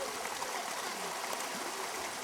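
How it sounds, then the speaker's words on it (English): River water in East Timor, where families wash and collect drinking water, flows in a steady broadband rush, continuous and fairly close, with no voices. "Families walk long distances to this river, where they wash and collect drinking water"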